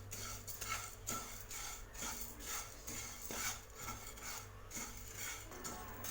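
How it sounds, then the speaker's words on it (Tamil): Red poha flakes are dry-roasted over a low flame in a pan, giving a soft, continuous scraping and rustling as a spatula stirs them, repeating in quiet sweeps with no talking. "இப்போ இதை பேனில் சேர்த்துக்கங்க. சேர்த்து இதில் லேசாக வறுத்துக்கலாம்."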